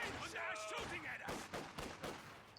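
MG42 machine guns in a Company of Heroes 2 battle rattle in quick bursts under a caster's ongoing commentary, the fire moderately close.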